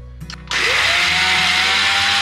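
An electric grinder whirs loudly as it grinds soaked mustard seeds and cumin into a paste in a village kitchen, a harsh steady motor roar that starts abruptly after a few brief knocks and runs unbroken.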